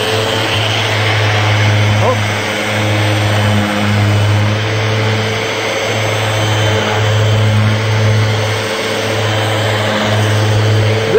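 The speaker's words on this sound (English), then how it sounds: "I'm going to switch over to random orbit mode." A steady mechanical whine of a random orbit sander levelling a solid surface seam, running continuously with a vacuum drone underneath, loud and close, holding the same pitch throughout.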